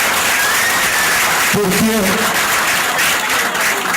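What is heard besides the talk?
audience round of applause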